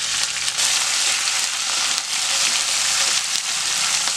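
Ginger, garlic, curry leaves and coriander sautéing in a pan for a village-style country chicken curry, a steady loud bright sizzle of frying that carries on throughout without talk.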